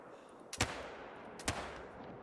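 Two rifle shots from the .22 rifle in the hunting game Call of the Wild, fired about a second apart as sharp, fairly faint cracks over a steady low background.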